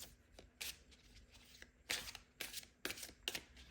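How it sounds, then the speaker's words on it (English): Tarot cards are shuffled in several quick riffling bursts with short pauses between, close and fairly soft in a quiet room. "I'm going to shuffle one of these cards here."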